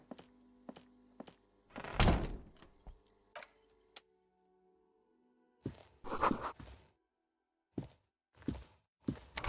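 A door closes in the video game Disco Elysium with a solid thunk, surrounded by sparse ticking, footstep-like taps and short knocks set against stretches of near silence.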